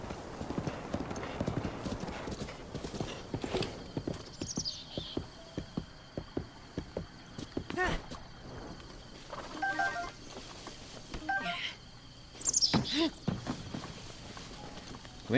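Clip-clopping horse hooves patter steadily nearby in The Legend of Zelda: Breath of the Wild, with a couple of neighs and whinnies breaking through, and brief game chimes in between.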